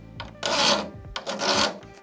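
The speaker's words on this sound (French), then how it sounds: "Je vais prendre une lime" A large metal hand file rasping across a brass earring: two long, gritty strokes of scraping, each preceded by a short lighter pass, close and fairly loud with brief pauses between.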